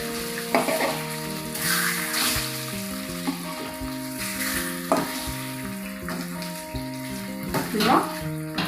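Flattened-rice (aval) adai pancakes fry in a pan with a steady, close sizzle and occasional louder spatters as they are turned. A melodic music track plays underneath throughout.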